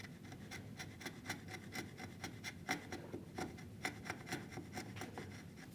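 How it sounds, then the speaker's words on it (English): A chisel pares wood while a router plane is assembled from a kit, making faint, soft scraping strokes in a steady repeated rhythm with no talking. "I'm going to bring my chisel up here"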